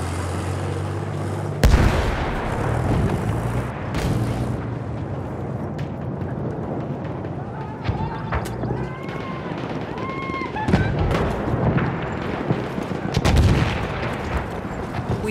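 Tank cannon fire and battlefield explosions in the World War I shooter Battlefield 1, loud sharp blasts at intervals over dense gunfire and combat din, with a voice calling out briefly.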